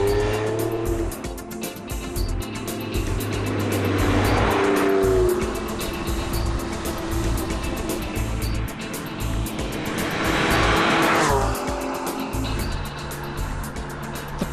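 A Porsche 911 Sports Classic driving hard, its engine note rising and falling as it sweeps past twice, with tires squealing loudly through the corners and no talk.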